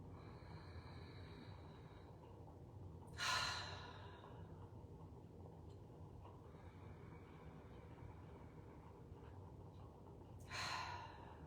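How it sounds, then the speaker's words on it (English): Deep breaths drawn in during a morning mantra meditation, two long airy inhales spaced several seconds apart over a faint steady background hum, close and soft, with no speech. "Let's take 3 deep breaths in."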